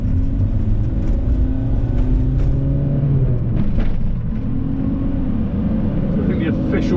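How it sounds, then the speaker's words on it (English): A VW T5 camper van engine accelerating on the road, giving a steady low rumble with a rising drone throughout, while someone talks over it from inside the cab. "we're already up to sort of 50 miles an hour without really straining the engine"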